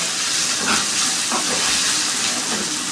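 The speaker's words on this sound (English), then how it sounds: "Then give it a very good mix, allow it to fry" Carrots and green beans sizzle and hiss steadily in a hot frying pan for fried rice, a continuous close broadband frying noise with no talking.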